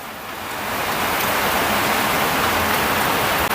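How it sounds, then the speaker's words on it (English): Steady rain pours down outdoors, a dense, even hiss that swells over the first second and then holds loud and unbroken, with no voices over it. "The rain persists."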